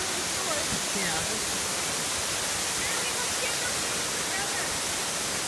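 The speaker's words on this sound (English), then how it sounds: "What do you think of that waterfall, Zach?" Steady, dense rushing roar of a waterfall on the Elwha River Trail, heard close and continuous with no breaks or other sounds on top.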